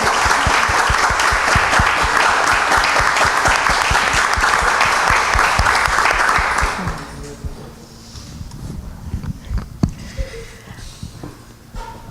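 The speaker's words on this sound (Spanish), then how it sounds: "así que doble de aplauso para ella, por favor" A concert audience gives a loud, dense round of applause for a violist at a music-among-books evening, which fades out after about seven seconds into a few scattered claps and quiet room noise.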